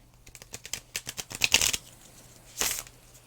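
Tarot cards being shuffled by hand, a quick run of crisp ticking riffles building to a dense flutter, then a short pause and one final papery riffle, close and distinct.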